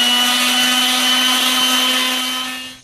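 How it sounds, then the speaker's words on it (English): A power sander working over wooden base pieces for a homemade gymnastics balance beam, a loud steady whirring drone with a constant tonal hum that holds evenly, then winds down at the end. "After we cut all the pieces for the base, we're going to sand them down."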